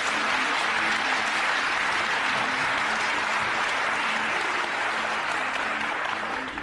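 Sustained studio-audience applause on the Turkish game show "Var mısın Yok musun", a thick, continuous patter of many hands that stays loud and even for several seconds, with murmured voices faintly underneath.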